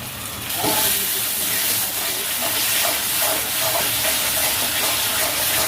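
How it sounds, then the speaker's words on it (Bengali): Tomato paste hits hot oil and masala in a pan, releasing a loud, steady steamy hiss and sizzle that rises suddenly and holds close and continuous to the end. "এবার টমেটো বাটাটা দিয়ে দেবো।"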